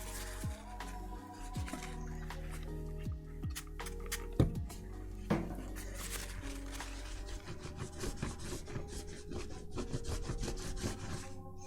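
Hard rubbing while cleaning a Singa75 keyboard produces an irregular, close scuffing and rasping with scattered clicks and knocks over a steady low hum.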